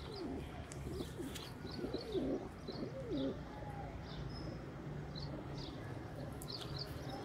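Sialkoti pigeons cooing in a low, repeated warble close by, with faint chirps and soft outdoor background noise.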